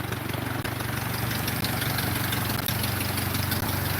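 The Ford Model A engine of a Pietenpol aircraft runs in a loud, close, steady idle with a rapid uneven chugging beat and the occasional small stumble, on the first run of the year, with no talking.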